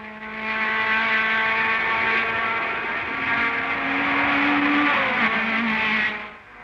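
A 1960s GT race car, the leading Ferrari, roars loudly through Paddock Bend, its engine note holding a steady high drone and rising in pitch as it passes close by, then fading at the end.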